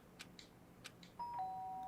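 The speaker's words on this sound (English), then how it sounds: "A sharp sound of the doorbell pierced my sleepy haze and pulled me back to the real world" A two-tone ding-dong doorbell chime rings out in the Danganronpa video game, sounding once clearly and then holding a sustained tone, loud and close against a quiet background.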